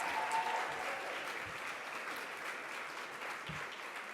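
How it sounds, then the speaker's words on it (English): Applause from a conference audience at a summit's closing session, fairly soft and steady, with a few louder claps standing out in a thin crowd. "Can we get one last round of applause for that amazing performance?"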